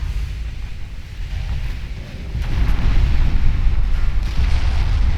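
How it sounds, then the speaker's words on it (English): A torpedo strikes a battlecruiser in the naval game Ultimate Admiral Dreadnoughts, giving a deep rumbling explosion that swells and holds as a heavy low roar, loud and close with no talk. "Oh, battlecruiser took a torpedo hit."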